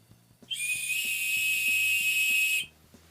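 A whistle built into an Opinel Outdoor No 8 knife, blown softly, gives one steady, piercing tone for about two seconds over faint background ticking.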